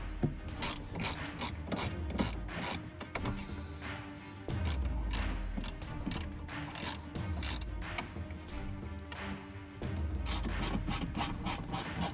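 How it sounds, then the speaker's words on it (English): A hand ratchet loosens bolts on the center bar of a Ram TRX during an intake install, giving rapid bursts of clicking pawl strokes separated by short pauses and low thumps, close and clear with no talking. "we're going to have to remove these 2 bolts and those 2 bolts so this center bar can come out"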